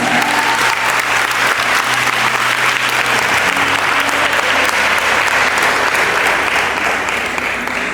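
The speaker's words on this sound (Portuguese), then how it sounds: "aplaude aí em nome de Jesus" A church congregation applauds steadily throughout, a dense, even wash of clapping from many hands filling the room with no break.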